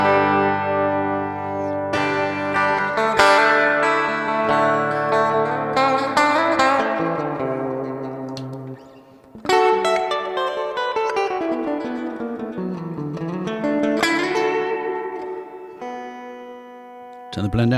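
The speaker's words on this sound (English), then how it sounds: "plate reverb you can put on just about everything from guitar to vocals to keyboards. It's my go-to reverb generally." An electric guitar played through a Fender Tre-Verb pedal's plate reverb rings out in sustained chords and picked notes, each phrase blooming and trailing into a long shimmering tail, with a short pause midway before playing resumes.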